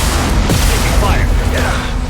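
A loud, dense sci-fi battle soundscape from a Mass Effect 2 cutscene, with scattered weapon fire and bursts of impact noise mixed beneath a voice speaking close by.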